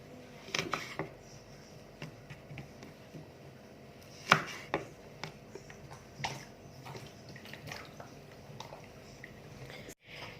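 Chili peppers crushed or ground in a kitchen while preparing asam pedas ikan patin, with a run of soft, uneven pounding and scraping knocks, one sharper hit, close and moderately quiet.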